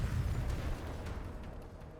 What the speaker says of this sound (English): A massive sound reminiscent of an explosion rings out and part of the building wall collapses.